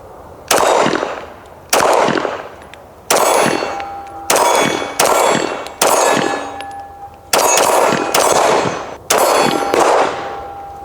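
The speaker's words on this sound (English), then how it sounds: "Let's get some more shots." Girsan 2311 Match X pistol fired at steel targets, about ten sharp shots each followed by a loud ringing clang of struck steel, spaced roughly a second apart, outdoors with no talking.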